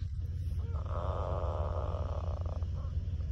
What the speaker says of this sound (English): It's my stomach growling.